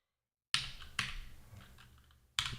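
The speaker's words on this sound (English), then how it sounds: "I'm not really good at typing the same thing several times." A few faint, crisp key presses on a computer keyboard while a password is typed, three separate taps spaced unevenly in a quiet room.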